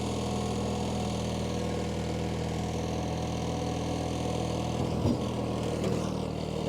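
A 37-year-old John Deere 316 lawn tractor with some issues, its engine running cold, holds a steady close rumble throughout with a slight rise in intensity near the end.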